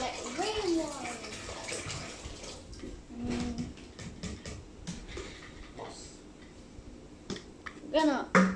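Water splashing and pouring as a terrapin aquarium is filled, with sloshes and drips throughout and a voice talking over it, ending in louder splashes.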